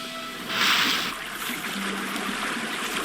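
A character plunges into water in the video game Broken Sword 2: The Smoking Mirror, with a broad rushing splash that peaks briefly and then fades into a steady watery wash, with faint game music underneath.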